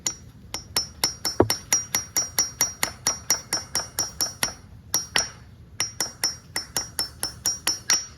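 A small tool taps out the brake pad pin on a 2015 Ducati Panigale 899 rear brake, giving a fast, even series of bright metallic clinks with a short pause midway, close and clear with no talking.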